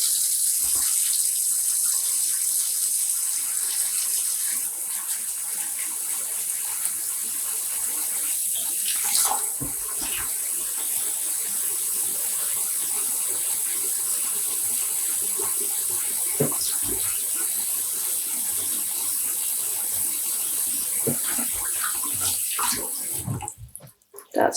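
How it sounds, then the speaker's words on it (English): Steady rushing water pours from a tap for about twenty seconds into yarn-dyeing rinse water, a continuous hiss with a few faint clinks, stopping abruptly at the end. "Adding some more water."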